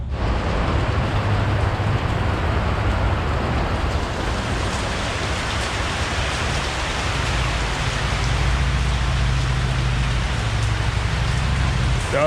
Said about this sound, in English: the rain came pouring down